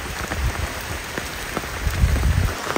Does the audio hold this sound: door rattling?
no